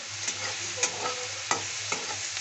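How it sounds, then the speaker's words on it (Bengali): Onions frying in a pan with salt for a spicy pasta, a steady close sizzle broken by a few sharp stirring scrapes spaced about half a second apart. "পেঁয়াজটা ভেজে নিতে হবে,"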